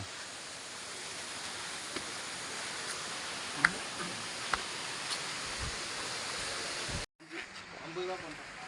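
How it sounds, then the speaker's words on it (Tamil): Steady, loud rushing water roars without pause at Jalagamparai waterfall in Tirupattur; the roar drops away abruptly near the end, leaving quieter background. "அருவிக்கிட்ட வந்தாச்சு"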